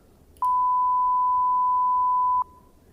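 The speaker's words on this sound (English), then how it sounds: "So this is the sound of this sinusoid." A single pure sine tone generated by Python code, switching on abruptly, holding perfectly steady and loud for about two seconds, then cutting off cleanly against a faint noise floor.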